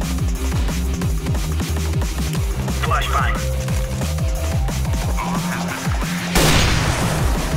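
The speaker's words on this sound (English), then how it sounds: "Throwing flashbang." A flashbang grenade thrown and going off in a tactical shooter game, with a sudden bright burst near the end over a dense, loud bed of rapid gunfire and booming in-game sounds.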